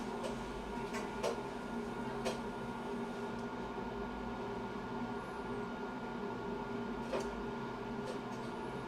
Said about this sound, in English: And this is the sound check from the drying.